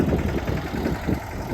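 A tractor engine runs close by, a low, rumbling throb with a quick rhythmic pulse, brief and steady.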